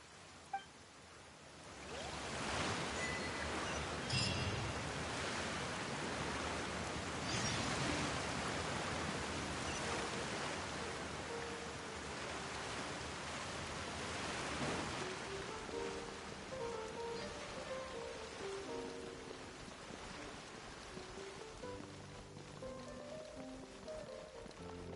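Steady rain falls in Genshin Impact, a dense even hiss that swells in after a quiet start and stays constant, with faint musical tones rising near the end.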